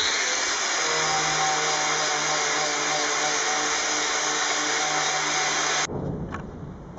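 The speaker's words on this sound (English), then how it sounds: "it's time to bite the bullet and start sanding it down" A power sander grinds steadily at old, thickly laid paint on a Ford Transit van, a loud continuous whine close by that cuts off abruptly near the end, leaving a fainter rattle.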